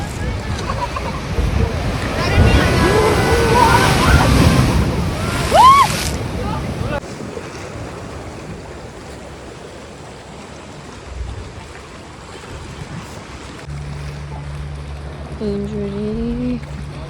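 Sea waves wash and roar on Chabahar beach, loud and rushing with wind buffeting the microphone, then drop to a quieter swash. People talk over the surf, and a low engine-like drone and tonal sounds come in near the end.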